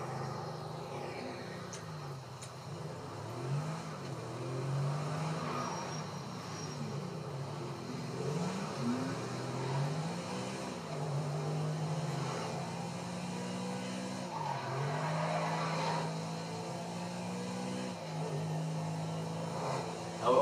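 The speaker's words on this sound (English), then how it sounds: "I'll let you guys hear the engine one more time." A Bugatti Adder in a video game revving repeatedly, the engine pitch climbing and dropping in steady waves, loud and continuous with no voices.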